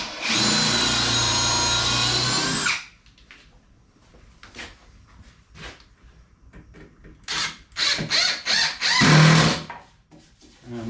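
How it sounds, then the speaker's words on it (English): A power drill bores into the wooden back support of an Adirondack chair, with one sustained close whine for about three seconds followed by shorter bursts and scraping handling noises. "And I drill the first one in the back support."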